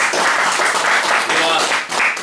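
Applause from an audience at the closing of a LAN party tournament, a short dense burst of clapping that swells and dips, with voices mixed in.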